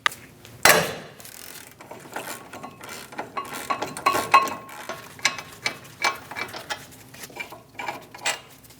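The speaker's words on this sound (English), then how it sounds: "Using a 21mm socket, remove the 2 caliper bolts." A ratchet with a 21mm socket loosening the front brake caliper bolts on a 2001-2006 Chevrolet Silverado 2500 HD, with a sharp metal clank followed by repeated rapid clicking strokes of the ratchet, close and distinct.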